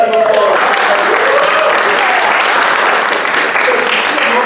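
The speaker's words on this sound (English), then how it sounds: "A big round of applause." Audience at a high school theater production of A Midsummer Night's Dream applauds steadily and loudly throughout, with voices mixed into the clapping.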